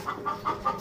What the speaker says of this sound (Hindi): बतखे आई हैं हमारी छत पे, इनको बहुत ज्यादा प्यास लग रही है।